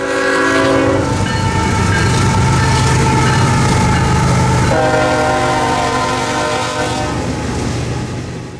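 Freight train Q220 rolls loudly and close through Folkston, Georgia, its horn sounding in long sustained blasts over the steady rumble and clatter of passing cars.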